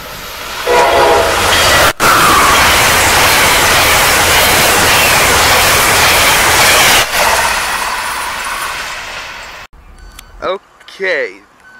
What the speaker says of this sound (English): this is the southbound Silver Star, fresh out of Philadelphia, Pennsylvania